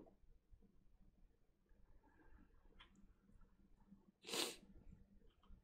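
A single sharp sneeze near the end, loud and close after a quiet stretch of faint breathing and room noise.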